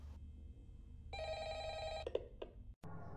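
An old telephone rings inside the video game Five Nights at Freddy's, one loud electronic bell burst lasting about a second, cut off sharply, then quiet room hum and a click.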